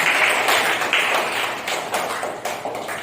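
Girls in a third-grade classroom at an Urdu primary school clap together in a brief burst of quick, uneven hand claps, loud and close, with no talking over it.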